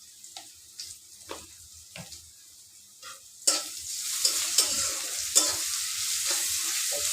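Ginger, garlic and cumin paste with salt and turmeric being stirred in a pan: a few soft scrapes at first, then a loud steady sizzle sets in halfway, punctuated by sharp stirring clacks.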